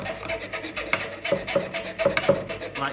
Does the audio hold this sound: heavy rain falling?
no